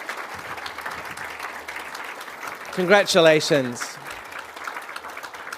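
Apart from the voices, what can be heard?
audience applause for award nominees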